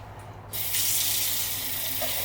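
Tap water runs steadily into a sink or container indoors, starting softly and then gushing louder and fuller for the rest of the moment.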